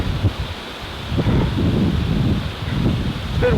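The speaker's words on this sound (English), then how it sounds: "It's been windy like this all night." Strong gusts buffet the microphone on a cold night in the Sierra Nevada, swelling and easing in rough waves of low roaring noise with rustling.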